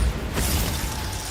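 A Bombarda spell explodes in the game Hogwarts Legacy: one short, bright burst with a crackling, shattering edge that quickly fades into a low rumble.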